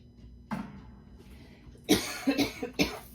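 A single cough, a short pause, then a quick burst of three or four harsh coughs close to the microphone in an otherwise quiet room.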